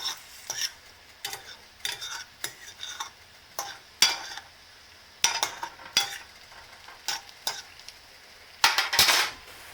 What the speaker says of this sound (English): we're going to go ahead and stir it around